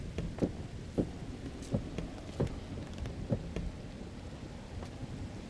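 Rain ambience from the video game Minecraft, quiet and steady, with soft periodic thuds or drips recurring roughly every half second to second over the hiss.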